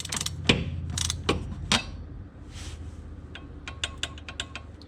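A torque wrench tightening a part during an oil change on a BMW i8, giving a series of close mechanical clicks and ratcheting creaks, a few louder snaps early on and quicker lighter ticks later.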